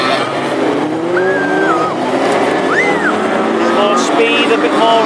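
Classic hot rod race cars thunder around a short oval at Hednesford during a final, engines droning near and loud with two sharp tyre squeals rising out of the roar while a commentator talks over the racing.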